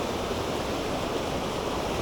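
Waterfalls tumbling along a mountain brook stream in the Green Mountains, a steady, full rushing wash of water close by, continuous and unbroken with no talk over it.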